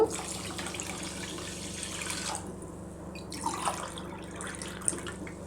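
Water running into a pan for sugar syrup while making gulab jamun, a steady splashing pour from a tap-like stream that fills the clip, close and moderately loud with no talk.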